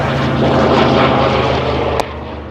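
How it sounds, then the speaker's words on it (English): A loud truck with straight pipes passing close by, a dense droning rumble with strong low harmonics that holds steady, then a brief sharp click near the end as the noise eases slightly. "That truck was quite loud. It had straight pipes."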